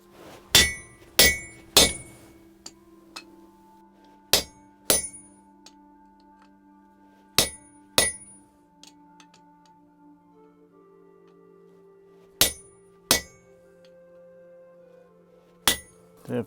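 A small hammer strikes a chisel during hand forging of an axe, with about a dozen sharp metallic clinks spaced irregularly over a steady low hum.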